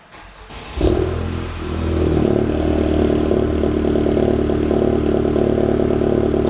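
A car engine cranks and catches just under a second in, then settles into a steady, loud idle close by after a fuel pump repair, with no voices over it.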